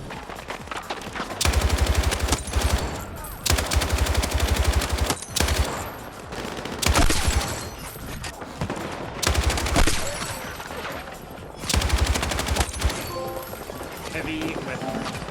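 Light machine gun fire in the shooter game Battlefield 6, long sustained automatic bursts separated by short pauses, loud and close, with faint game sounds between bursts.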